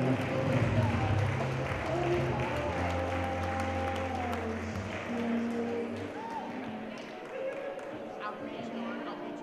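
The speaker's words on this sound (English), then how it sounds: "Let's give them a round of applause for a nice clean cake cutting." Wedding guests applaud after the cake cutting, a dense sustained round of clapping from a crowd that tapers slightly, with voices mixed in underneath.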